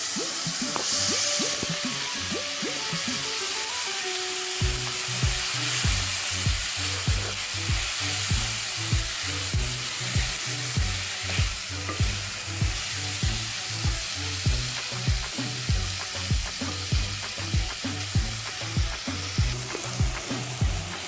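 Tomatoes frying with ginger garlic paste in a pan for a quick breakfast dish, a steady loud sizzle with rhythmic scraping strokes of stirring throughout, close up and without talk.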